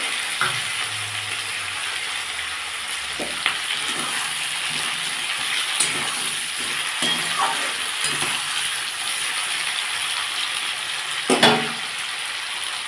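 Potato and capsicum frying in a pan as garlic paste goes in, with a steady close sizzle broken by a few stirring scrapes and taps, no talking.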